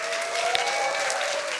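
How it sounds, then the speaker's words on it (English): Audience applause at a Berlin science slam event as the next speaker comes down the stairs, a dense, steady wash of clapping from a crowd that holds at even loudness throughout. "Give him a warm round of applause."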